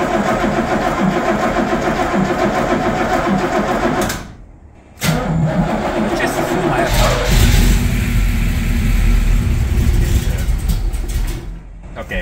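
A 1978 Pontiac Trans Am V8 with newly installed Edelbrock heads cranks and fires, with a brief drop around the start, then settles into a loud, steady running rumble close by.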